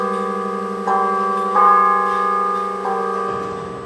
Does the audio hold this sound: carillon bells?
yes